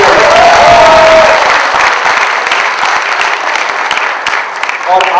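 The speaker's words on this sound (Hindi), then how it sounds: "इनके लिए एक बार जोरदार तालियां दी जाए।" Audience applause at a Hindi Pakhwada cultural evening at IIMC, 2013: loud, dense clapping from a crowd that swells early then gradually thins and fades, with a speaking voice over it near the start.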